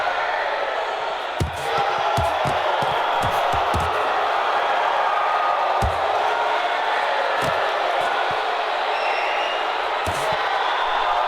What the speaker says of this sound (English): You just hear the crowd's response every time BAZ's glove touches Ferdge anywhere.